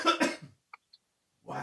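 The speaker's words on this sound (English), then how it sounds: "I need one good cleansing cough." A person gives a couple of sharp, close coughs, then a short silence with tiny clicks, then another cough-like burst as the throat clears.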